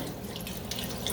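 Chicken bone broth poured steadily into a pot for meatballs and gravy, a continuous soft liquid trickle with faint splashing, close and quiet, no voices.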